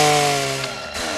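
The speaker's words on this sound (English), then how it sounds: "Late to be trimming the hedges." A hedge trimmer's steady motor whine plays loudly in a movie scene, dropping slightly in level after the first half second and running without speech.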